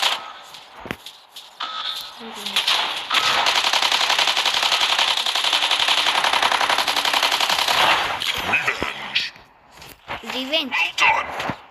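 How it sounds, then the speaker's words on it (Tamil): Robots trade rapid automatic gunfire in the Mech Arena video game: a dense, sustained burst of about five seconds with scattered shots before and after, and a voice talking around it. "அத்தனை வாட்டி சுட்டான்"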